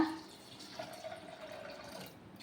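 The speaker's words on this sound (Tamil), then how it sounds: "ஒரு 2 கிளாஸ் தண்ணி ஊற்றுறேங்க." Water pours into a pressure cooker holding peanuts: a short, soft, steady stream lasting about two seconds, close and fairly quiet.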